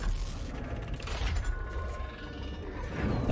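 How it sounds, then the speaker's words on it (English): Dormant ancient machine gears beginning to turn in Pillars of Eternity 2: a dense, low, rumbling grind of creaking, ratcheting metal mechanisms, continuous and heavy throughout. "you hear the sound of dormant gears beginning to turn. A low vibration builds under your feet."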